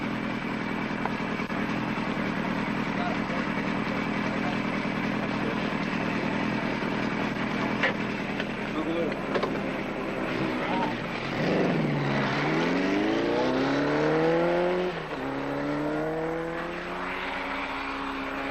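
Several 1973 Kawasaki Z1 racing motorcycles lapping an oval track make a steady, loud engine drone, with a rising and falling whine near the end as a bike passes close by.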